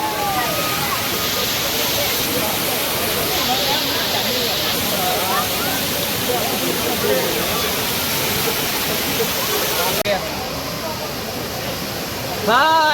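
The Courtallam waterfall roars in a constant, loud, dense rush of pouring water with people bathing under it, and faint voices and splashes of the crowd are mixed into the steady torrent.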